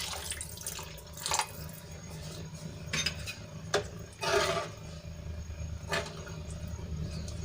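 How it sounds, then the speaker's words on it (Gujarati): Water poured from a glass into a flour mixture for a cabbage kofta gravy, splashing in a few short bursts over steady background hum. "અહીંયા હું એક ગ્લાસ જેટલું પાણી ઉમેરીશ"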